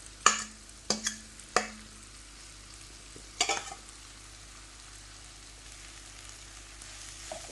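Potato samosa filling, with some potatoes mashed and some left whole, is stirred in a pan over a low sizzle, with a few sharp spoon scrapes and knocks spaced apart.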